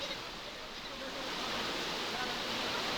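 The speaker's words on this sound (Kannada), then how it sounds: "ಬೆಳಗಾವಿಯಲ್ಲಿ ಗುಡುಗು ಸಹಿತ ಧಾರಾಕಾರ ಮಳೆ ಸುರಿದಿರೋದು." Heavy rain pouring down during a thunderstorm in Belagavi, heard as a dense, steady hiss that swells slightly louder partway through, with no distinct thunder claps.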